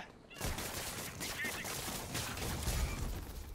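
Gunfire in a Spider-Man video game: a dense, continuous fusillade of shots at moderate level with rapid crackling bursts, a faint voice mixed in beneath the shooting.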